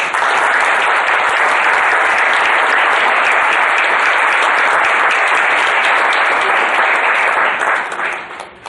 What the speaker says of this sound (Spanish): quiero que todos recibamos con un fuerte aplauso a Facundo